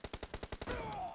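In PUBG Mobile, a rapid automatic burst of about six evenly spaced gunshots cracks out, then fades into a ringing tail.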